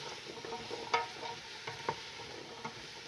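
Vegetables for chicken noodle soup stirred and sizzling in a pot over raised heat, a soft steady frying hiss with a few scraping clicks from the spoon, quiet and close, no talking.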